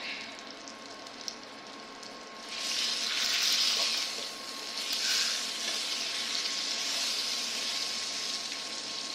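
Roast beef seasoned with cayenne sears in a hot pan on the stovetop, a steady close sizzle and fry that swells louder partway through and keeps crackling without a break.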